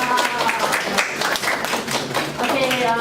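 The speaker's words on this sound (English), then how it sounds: "so yay, give a big clap" Classroom group clapping after a team activity, a quick patter of scattered hand claps running throughout, fairly close and steady, with voices mixed in underneath.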